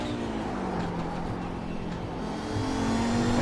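Audi 90 Quattro GTO race car in the iRacing sim, its engine holding a steady loud drone with a slowly rising pitch as it runs down a straight, close and constant throughout.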